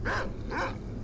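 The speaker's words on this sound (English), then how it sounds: "that's the sound of dogs." Two short dog barks in a video game about half a second apart, mid-distance, over a steady low background hum.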